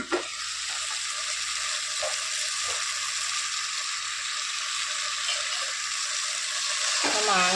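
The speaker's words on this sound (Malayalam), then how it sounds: "മാങ്ങയും തക്കാളിയും കൂടെ ചേർത്ത് നന്നായിട്ട് ഒന്നുകൂടി ഇളക്കി വീണ്ടും ഒരു 3 മിനിറ്റ് ഒന്ന് വേവിച്ചെടുക്കാം" Ivy gourd, mango and tomato curry cooking in a pan: a steady, close, hissing sizzle runs throughout, with a few faint scrapes from stirring.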